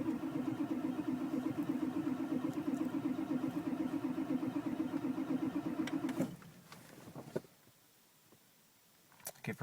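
A starter cranks a 6.9/7.3 IDI diesel engine, a fast, rhythmic whirring churn that runs loud and steady for several seconds, then stops abruptly, leaving near silence with a few faint clicks and knocks.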